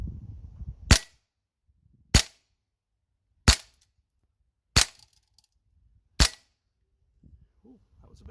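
Five sharp, loud shots from an APFG Rattler gas blowback airsoft rifle on green gas with 0.25 g BBs and no suppressor, each crack spaced about a second apart against near silence.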